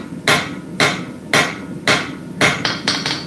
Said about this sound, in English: Could probably switch to a bigger hammer now,